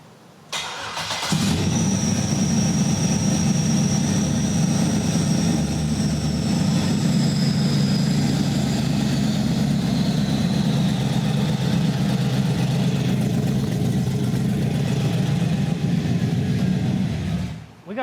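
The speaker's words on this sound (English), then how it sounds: "Lifters are a little noisy, I will say that." A modified truck engine with a new camshaft idles loudly and steadily without its Y pipe, its lifters ticking a little over a rough exhaust drone after a brief start-up, with no talk.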